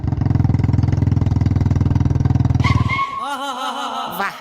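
A Bullet motorcycle ridden along gives a loud, even thumping engine beat for about three seconds. The engine then drops away and other mixed sounds and tones follow.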